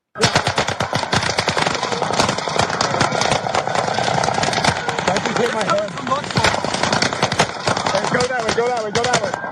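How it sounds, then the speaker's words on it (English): Rapid bursts of automatic gunfire crackle throughout, dense and continuous with overlapping volleys, from the Las Vegas mass shooting as captured on police body camera footage, with indistinct voices and radio chatter mixed in. "You can hear the guns in the background"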